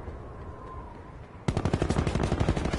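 Rapid gunfire bursts strike a robot unit in a PS4 military shooter, starting suddenly and continuing as a dense, loud, rhythmic volley with no voices over it.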